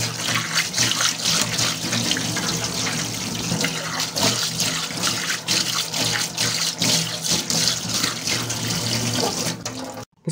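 Water from a faucet pours steadily into a kitchen sink, rinsing foamy cleaner off the basin in a continuous close rush that stops abruptly at the end.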